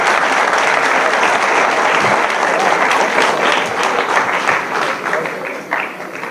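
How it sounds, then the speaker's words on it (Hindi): An audience at a school Independence Day event gives loud, sustained applause, many hands clapping densely before the sound eases slightly toward the end. "तो पहले तो आज इस शानदार शो के लिए जरा जोरदार तालियां अपने लिए बजाइए"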